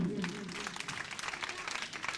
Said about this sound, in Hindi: अगर मंजूर हो तो मीठी मीठी तालियां हो जाए